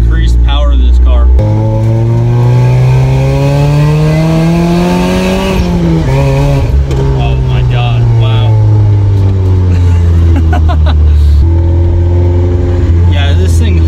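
A supercharged 1991 Mazda Miata with a '97 M Edition drivetrain swap accelerates hard from inside the car, its engine note climbing loud and close through the gears with a brief lift between shifts, while occupants exclaim over it.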